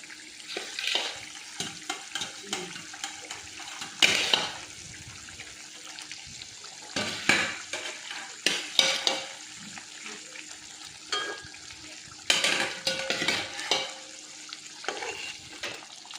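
Pomfret fish pieces go one by one into a simmering Bengali curry in a pan, giving intermittent bursts of sizzling and wet splashing with quieter bubbling between them. No one speaks.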